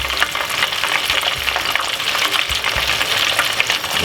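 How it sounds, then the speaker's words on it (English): Southern fried chicken sizzling in hot oil, a dense, loud, continuous crackle and hiss with occasional soft bumps from stirring or moving pieces, no speech. "We're gonna fry these one now."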